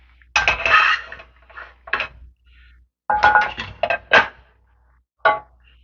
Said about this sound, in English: While we're doing that, grab our other pan.